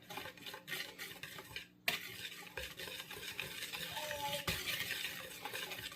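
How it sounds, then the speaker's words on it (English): Pancake batter is whisked in a bowl, giving quick, continuous scraping and clinking strokes that sound close and fairly quiet, with a short pause partway through. "we'll whisk it up quickly"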